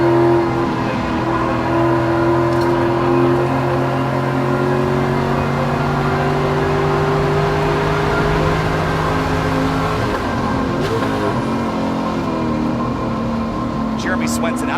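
Race cars roar across the finish line at Gingerman Raceway as the checkered flag waves, engines droning steadily with sustained pitch bands that fall away near the end, under continuous race commentary.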